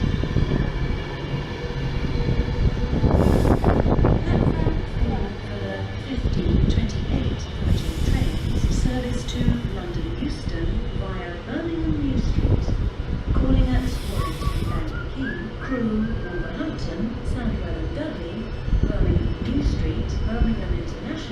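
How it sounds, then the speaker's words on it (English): A Virgin Trains class 390 arrives at a platform at Wigan, its rumble and squealing brakes continuous and fairly loud while station announcements and voices carry over the top. "Arriving into platform 5, a Virgin train service to Carlisle."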